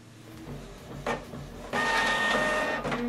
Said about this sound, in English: we are printing this document double-sided